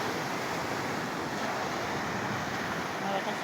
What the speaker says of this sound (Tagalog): Masis, malalakas ang hangin.